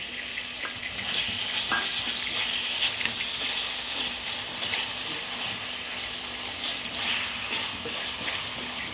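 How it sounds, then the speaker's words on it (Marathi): Onion and spice masala for spicy mutton sukka fries in a pan while being stirred, producing a steady, close hissing sizzle with faint scraping throughout and no talking. "आपल्याला व्यवस्थित हा मसाला परतवून घ्यायचं आहे"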